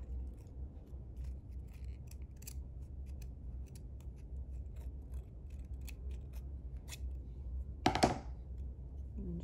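Scissors make a brief snip while cutting the tail off a ribbon bow for a car freshie, heard close over a steady low hum in a quiet room.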